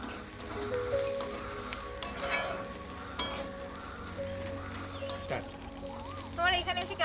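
Spices, onion and garlic with cinnamon fry in a pan in a village kitchen, giving a steady close sizzle with occasional stirring scrapes and light utensil clinks throughout.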